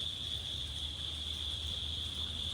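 Crickets chirping outside a room in Sri Lanka, a faint, continuous high-pitched trill that holds steady throughout over a low background hum.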